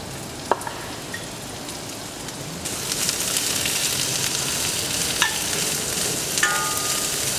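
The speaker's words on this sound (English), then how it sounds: "now we're going to caramelize the onions" Onions frying in olive oil in a preheated pan, a steady broadband sizzle that swells louder partway through, with a few faint utensil clicks and no voices.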